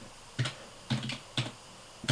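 A computer keyboard is typed on in a quiet room, with three close, distinct clusters of key clicks at a steady pace and one more starting at the end.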